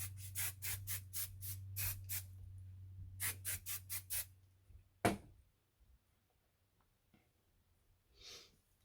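Two bursts of quick spritzes from a spray bottle misting hair extensions, about seven pumps then five more, close and crisp, followed by a thump, quiet handling and a faint final hiss.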